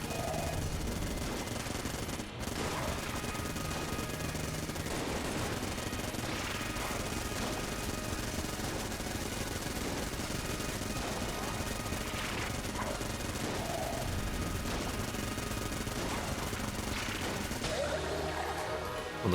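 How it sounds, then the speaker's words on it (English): Vulcan cannon fire in Enter the Gungeon: a dense, unbroken roar of rapid shots runs the whole time at steady loudness, cluttered with game effects and a brief jolt early on. "It's a Vulcan cannon, all right."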